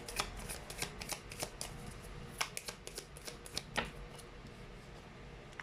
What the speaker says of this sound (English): let me just pull up two more cards here